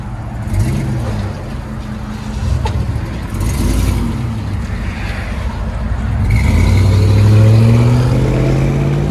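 A 2002 Chevy Suburban with a 5.3L V8 and Flowmaster Delta 40 series exhaust, loud and close, rumbling at idle then revving up and swelling into a deep, rising drone, with no voices.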